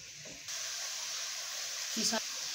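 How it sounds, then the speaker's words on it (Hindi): Spices roasting in hot oil for moong daal pakora salan: a steady, close sizzling hiss that starts abruptly and holds, with brief vocal sounds near the beginning and end. "मसाले की भुनाई कर लेते हैं"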